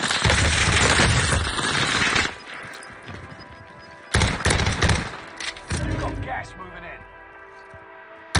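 An MP5 firing in Call of Duty on Rebirth Island, with loud bursts of rapid shots in short clusters, broken by quieter gaps and clattering impacts.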